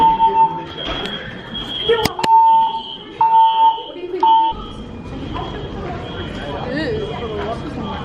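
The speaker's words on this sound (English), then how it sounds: "The fire alarm just went off." Fire alarm sounding at Hollywood Studios, repeating steady electronic tones in a regular on-off pattern over crowd noise and talking people, with a sharp click partway through.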